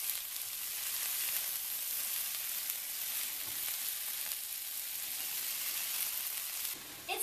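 Okra sizzles steadily in a hot pan, a dense even frying crackle that holds loud and unbroken for about seven seconds, with a faint clink of the contents being shifted near the end.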